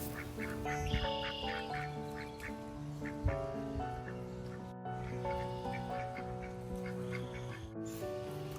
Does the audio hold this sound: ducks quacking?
yes